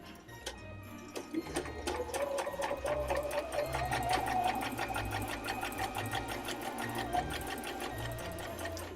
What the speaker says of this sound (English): I have my machine set to 1/4 of an inch and just going to sew